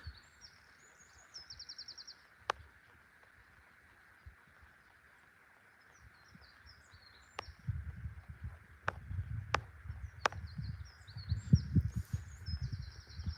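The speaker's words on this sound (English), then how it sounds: "it's really nice and peaceful down here with the birds, and you can just hear the stream running" Birds sing and chirp in scattered bursts over the steady rush of a stream running nearby at a quiet spot by a horse farm, with soft low rumbling noise building in the second half.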